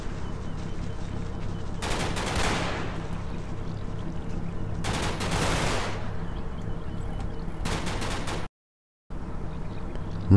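Mortar rounds land in Combat Mission Market Garden as several broad noisy bursts of blast and debris, spaced a few seconds apart over a steady rumbling battlefield bed, with a brief dropout near the end.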